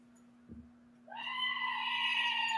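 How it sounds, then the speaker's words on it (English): A goat lets out a single long, wavering bleat that swells loud and close and holds to the end, following a brief dull thump over a faint steady background hum. "Was that a goat?"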